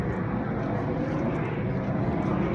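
Airplane passing overhead near an airport, a steady, loud, broad engine roar filling the whole clip without pause, with no talking.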